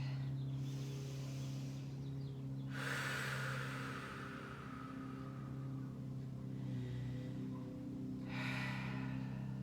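Deep breaths during a yoga session, with long slow inhales and exhales rising and falling in a few drawn-out swells over a low steady background hum.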